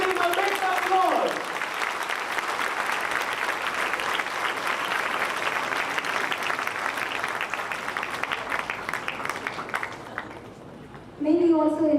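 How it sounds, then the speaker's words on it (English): An audience at a welcome and thanksgiving ceremony claps steadily to greet a new rector. The applause is dense and sustained for about ten seconds before fading, and a voice speaks briefly at the start and the end. "Give him a big applause."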